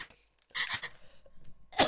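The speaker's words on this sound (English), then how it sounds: "then I started coughing" Someone coughs in a few separate bursts with short pauses between them, the sharpest and loudest coming near the end, after a quiet start, with no talking.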